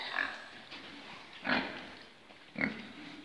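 A few short grunts from Mangalica pigs at irregular intervals, close by, with quiet background noise in between.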